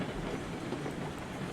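A heavy freight train with many cars rolling on rails in the video game RailRoads Online, a steady, dense rumble and clatter filling the whole moment with no talk over it.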